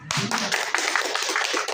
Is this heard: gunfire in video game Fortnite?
no